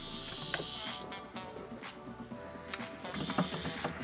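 A hand pump draws fluid out of a boat with rhythmic mechanical clicking and ratcheting strokes, close and fairly quiet, with brief hissing bursts between the strokes.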